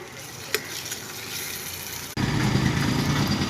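Onion and ginger-garlic paste fry in a pan with a steady sizzle that suddenly jumps louder and denser partway through, then keeps crackling without voices.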